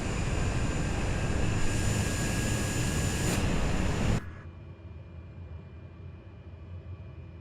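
A small airplane's engine drones loudly and steadily during a runway roll, with a brief louder swell, then drops abruptly to a much quieter idle rumble for the remaining seconds.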